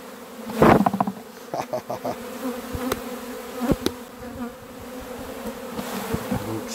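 Honeybees hum loudly from an opened hive, a dense, close, wavering drone that swells and fades, punctuated by a few knocks and clatters of frames being handled, with no talking.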